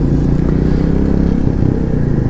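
A Royal Enfield Goan Classic 350 motorcycle on a group ride gives a loud, close, steady engine thump with a low pulsing exhaust beat and wind rush for a couple of seconds.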